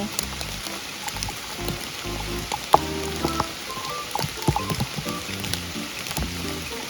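Rain falls in a forest during mushroom foraging, a steady close patter of drops on leaves and surfaces with scattered heavier taps, while people talk over it.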